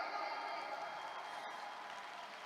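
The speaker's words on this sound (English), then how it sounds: "Can we all give ourselves a round of applause today?" Faint, steady applause from an audience, a continuous wash of clapping that stays even throughout without any voices rising above it.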